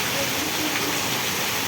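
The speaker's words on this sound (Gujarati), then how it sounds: "જુઓ તમે અત્યંત ભારે વરસાદ પડી રહ્યો છે" Very heavy rain pouring down on Vejalka village, a dense, unbroken roar of hissing water that stays loud and steady throughout, with no clear talking.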